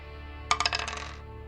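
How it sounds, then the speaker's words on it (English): Two dice rolled for a tabletop role-playing game clatter onto a hard surface in a quick burst of bright rattling clicks that fade within a second, close and alone with a faint background hum. "So we're going to go ahead and roll 2 dice for them."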